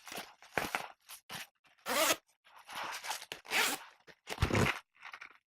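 Zippers on the mesh pockets of a backpack built from recycled firefighter material are pulled open and shut in short bursts. Close, crisp ratcheting zips come one after another with brief gaps between them.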